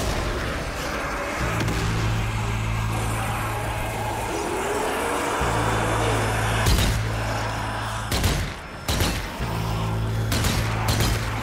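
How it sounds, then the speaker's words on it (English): Explosions and heavy gunfire bursts in the video game Zombie Army 4, loud sharp blasts clustered near the end over a constant rumbling engine-like drone, no talking. "Grenade!"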